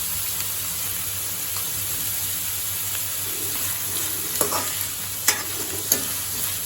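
Junnu, a colostrum pudding, frying in a pan gives a steady sizzle, with stirring scrapes and a few sharp clinks of a utensil toward the end; no speech.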